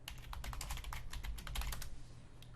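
Rapid keystrokes on a computer keyboard, a short close burst of light clicks entering a search term, quiet and without talk.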